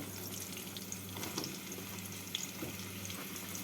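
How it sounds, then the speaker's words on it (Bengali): Ridge gourd and pointed gourd being stirred with fried potatoes in a pan for a vegetable fish curry, a faint steady sizzle with light scraping, quiet and continuous throughout. "ঝিঙে পটলগুলোকে দিয়ে একটু নাড়াচাড়া করে নিচ্ছি"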